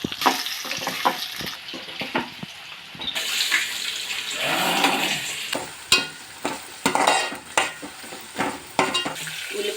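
Onion frying with turmeric in oil in a pan for a prawn and egg curry: a close sizzle with frequent sharp scrapes and taps from a spatula, in uneven bursts, plus a stretch of louder bubbling hiss midway, with no talking.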